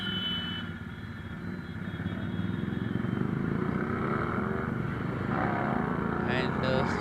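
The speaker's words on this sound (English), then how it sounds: "nice acceleration, man" A Yamaha R15 Pro motorcycle fitted with an aftermarket liner exhaust accelerates, its engine note climbing steadily and droning loudly under wind noise, heard up close from the ride.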